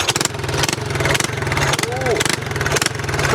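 A Briggs & Stratton small engine on a homemade mini trike, run on choke, chugs with a steady, close, loud putter throughout, with someone speaking over it.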